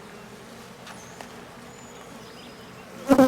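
Low, steady buzzing of honeybees up close at an open hive, fairly faint, with a sudden louder burst of noise at the very end.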